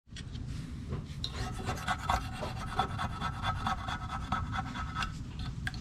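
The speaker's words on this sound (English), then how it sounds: "I'm going to clean that off with a plastic razor blade and some brake clean" A plastic razor blade scrapes old RTV sealant off the metal differential cover of a 2008 Mustang Bullitt, producing a close, continuous rasping scrape with short repeated strokes.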